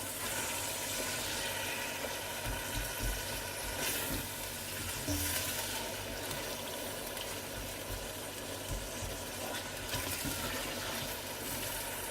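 Chicken sizzles and fries in hot oil for yakhni pulao, a steady dense crackle with occasional stirring scrapes running throughout, no voices.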